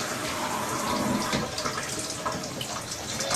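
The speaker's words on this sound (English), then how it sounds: "Now that I'm completely clean, I can turn the water off." Shower water runs in a steady, close, fairly loud hiss and splash that continues unbroken to the end, with no voices.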